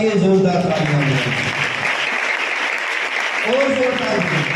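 A church congregation claps loudly during a morning prayer service, a dense, steady wash of applause with a preacher's voice speaking over it at the start and again near the end.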